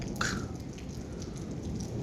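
Heavy rain falling in Changlang, a steady, dense hiss that stays even and close throughout with no voices over it.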